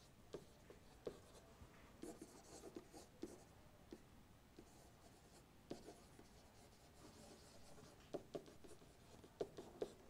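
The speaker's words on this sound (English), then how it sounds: "Let's write it out" Pen strokes scratch across paper while vector working is written out, with soft, close, intermittent scribbles and small taps in an otherwise quiet room.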